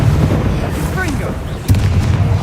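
Confringo blasting spell from Hogwarts Legacy bursting in a sharp explosion partway through, with a rumbling tail, set among spell-casting effects and a faint voice.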